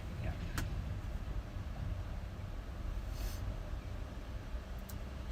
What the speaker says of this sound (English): heard a truck going by and everything.